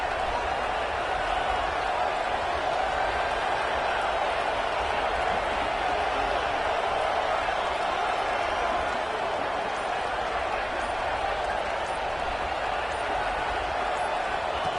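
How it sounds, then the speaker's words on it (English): Loud crowd noise filling a stadium at a Washington football game, a constant, dense wash of roaring voices that holds steady throughout with no clear breaks. "listen to this crowd noise. This stadium is vibrating"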